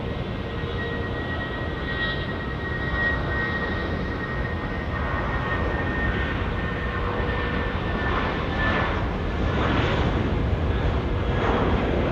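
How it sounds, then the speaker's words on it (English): An Airbus A320 jet on the Dunedin service spools up for its takeoff roll on runway 23 at Auckland Airport, a steady broad engine roar heard from a distance that slowly grows louder with a faint whine on top. "we've got an A320. This is the Dunedin service, which is starting to roll now, runway 23"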